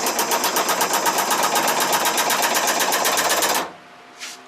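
A Shopsmith 18 jigsaw, roughly forty years unused, running at 500 RPM with a steady, fast rhythmic clatter for about three and a half seconds before it winds down and stops, leaving near silence and one brief faint noise.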